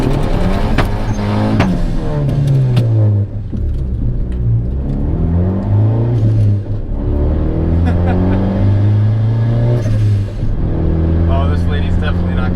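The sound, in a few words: turbo Honda Accord doing a burnout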